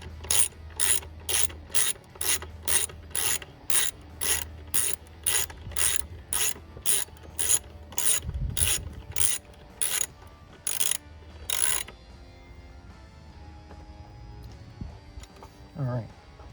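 A ratchet tightens a bolt on the EVAP purge valve of an Ecoboost Mustang: rapid bursts of loud, close clicking repeat in an even rhythm about twenty times, then stop, leaving faint handling noises.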